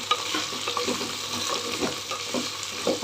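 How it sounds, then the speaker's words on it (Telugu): Okra stir-fries in hot oil in a pan, a dense close sizzle broken by quick rhythmic scrapes and stirring knocks, with no voices. "మంచిగా బాగా కలుపుతూ వేపుకుంటాను"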